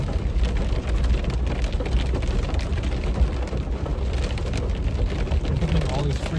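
Rain falling steadily during a supercell storm, a dense, continuous wash of drops at close range, heard alone without talking.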